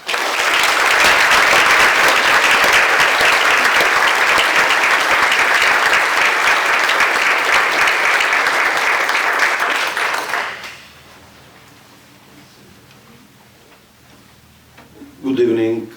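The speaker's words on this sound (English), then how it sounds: "would you please join me in giving a warm round of applause to our special guests" Warm audience applause greets special guest speakers at an evening lecture, loud dense clapping from a sizable crowd lasting about ten seconds before cutting off to near quiet, with a voice starting to speak at the end.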